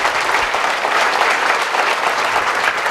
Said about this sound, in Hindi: तो एक बार जोरदार आखिरी तालियों के साथ उनको आप